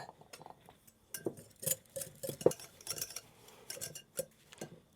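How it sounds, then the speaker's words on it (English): Butter and brown sugar being whisked in a bowl, light rapid clicks and scrapes of the whisk against the sides in irregular bursts, close and fairly quiet. "So I'm going to give that a whisk."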